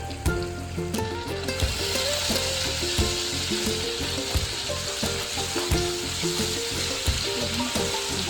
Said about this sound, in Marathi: इथे मी कांदा शिजायला ठेवला फोडणीचा